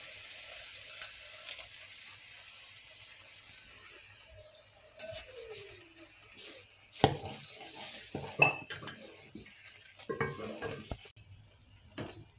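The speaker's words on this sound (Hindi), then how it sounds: "अब ये गुड़ का मिक्सचर इसमें शामिल कर रहा हूँ, वो भी फुल के अच्छी तरह छान लेंगे इसको" Jaggery mixture poured through a strainer into a pot of gur wale chawal, with scattered clinks of metal utensils, stirring scrapes and soft liquid splashes coming in irregular bursts over quiet kitchen background.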